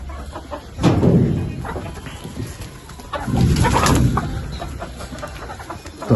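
Hens cluck and squawk in two bursts close by, with quieter rustling between them and no talking.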